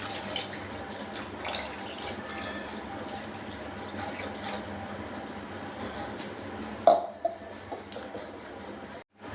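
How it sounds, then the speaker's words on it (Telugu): Water poured into a pan of fish curry (chepala besara), a soft continuous trickle and splash at low level, ending with a brief louder clatter and a short pause. "అలాగే దీంట్లో బాగా కొంచెం తగినంత నీళ్ళు కూడా వేసుకుందాం."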